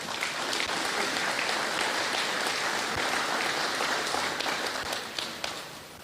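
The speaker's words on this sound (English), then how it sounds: "So you can give yourself a wonderful round of applause for that." A large audience at an Afrikanerbond address by Ramaphosa breaks into sustained, dense applause, steady and loud before tapering off near the end.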